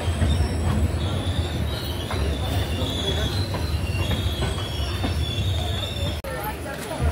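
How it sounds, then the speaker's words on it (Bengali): The Howrah–Haridwar Kumbh Express (12369) brakes to a halt at small Jamui station in the evening, its wheels squealing in high, wavering tones over a steady rolling rumble, heard from aboard the train. "এখন জামুই একটা ছোট স্টেশনে গাড়ি এসে থামলো।"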